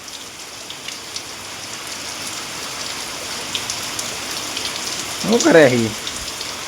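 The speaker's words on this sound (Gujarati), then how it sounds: "વરસાદ વરસાદ." Heavy rain pours onto a rooftop terrace in a dense, steady hiss of drops, with a voice briefly speaking near the end.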